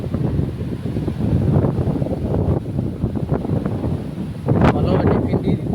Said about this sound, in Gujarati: અત્યારે પવન છે